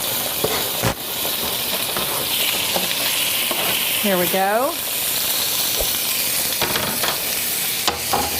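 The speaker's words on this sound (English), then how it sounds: "Nice little sizzle going." Chicken pieces frying and being stirred in a hot pan, a steady close sizzle running throughout with scraping stir sounds, and a voice speaking briefly over it.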